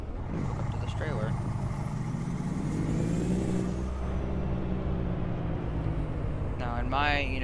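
A Kenworth W900 truck engine in a video game mod rumbles low and climbs steadily in pitch as it accelerates, with someone talking over it at times.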